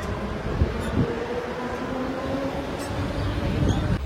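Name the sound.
train arriving at station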